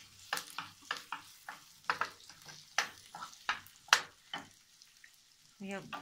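Sliced onion and finely chopped garlic fry for a chicken liver tagine, close and fairly quiet, with irregular sputtering pops and bursts of sizzle, plus a short louder rustle near the end.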